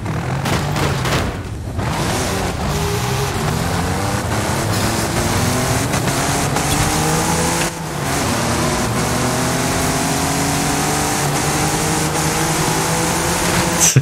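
A rough, uneven damaged car engine in the video game Forza Horizon 5 idles and revs loudly and steadily, with a few sharp booming bursts near the start and a brief dip in the middle.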